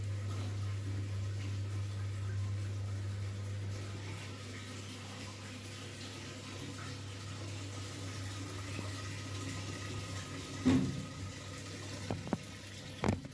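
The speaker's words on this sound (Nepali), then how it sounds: "मेसिन चाहिँ यसरी चाहिँ चल्यो है त।" A Whirlpool washing machine, after a drain-motor repair, runs with a steady low mechanical hum and faint watery wash, ending in a few sharp clunks near the close.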